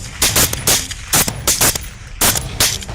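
Gunfire rings out at night during a wild boar hunt on Australian farmland. Loud shots come in quick bursts of several reports with short gaps between them, close and echoing.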